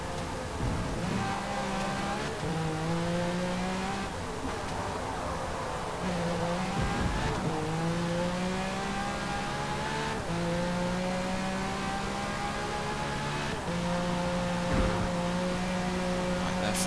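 Porsche race car in Forza Motorsport, its engine revving up through repeated gear shifts with rising pitch and brief drops between shifts, plus occasional tire noise, close and continuous.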